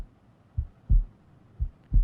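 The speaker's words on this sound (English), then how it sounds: "So this heartbeat," Heartbeat sound effect from an Alchemy synth library: two clear double thumps, a lub-dub pattern, deep and close, playing alone with no talk.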